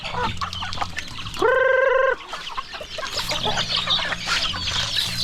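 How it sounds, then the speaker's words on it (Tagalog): Free-range chickens and hens cluck busily nearby as they feed on yellow corn on a provincial farm, and a loud, sustained rooster-like call cuts through the chatter partway through. "lalo na mga free range manok natin"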